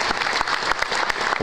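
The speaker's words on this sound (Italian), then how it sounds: "Gli applausi che sentite sono per la coppia della Spezia, campione nazionale di Serie A." Audience at a bocce pairs final applauds, a short burst of dense, steady hand clapping from a crowd filling the space.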